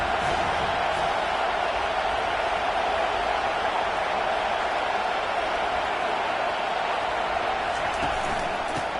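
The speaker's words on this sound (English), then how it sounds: "The crowd getting behind this defense as they try to get a stop in the red zone." Stadium crowd at an American football game roars steadily throughout, a dense, loud, continuous wash of cheering with no individual voices standing out.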